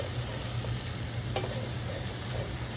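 Turmeric and coriander powder stirred into hot oil on a stovetop over medium-high gas, with a steady close sizzle and a faint scrape from the spoon.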